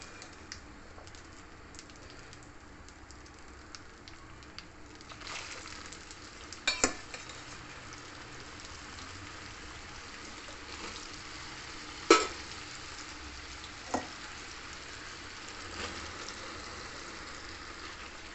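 Mango pieces fry in a pan with oil and asafoetida, giving a faint steady sizzle with a few soft scraping clicks from stirring.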